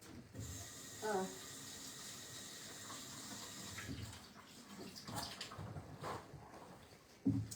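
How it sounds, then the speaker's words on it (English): Hands being washed under a running tap after baking biscuits, a soft, faint water flow with intermittent splashes and brief rustles, fairly quiet throughout. "I'm gonna wash my hands."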